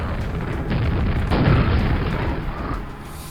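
Grenade explosions in the Quake video game, heavy booming blasts that roll into one another over a steady rumble, loud and sustained for a few seconds without speech.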